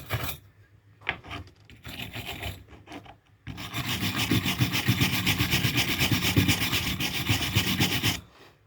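Scrubbing with a wire brush, loud rasping strokes, a few short bursts at first and then a long continuous steady scrub close by.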